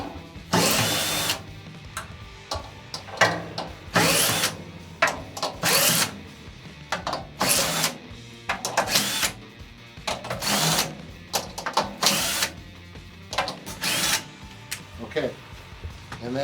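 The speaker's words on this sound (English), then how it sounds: "we're gonna loosen all the lugs, just like we did before" A power drill whirs in repeated short bursts, each about a second long, as it backs out the tension lugs on a floor tom, with the loud runs separated by brief pauses and handling noise.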